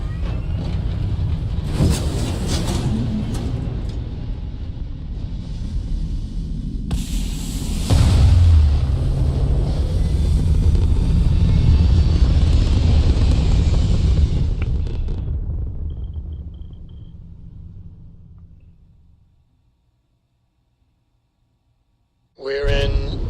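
Spaceship lifting off in the video game Starfield: a loud, sustained engine roar and rumble with bursts of thrust that swells, holds, then fades to silence, with a final short burst at the end.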